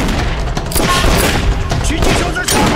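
A dense, loud barrage of gunfire and booming impacts fills a sniper shootout in a kung fu action film, continuous and chaotic, with shouting voices mixed in.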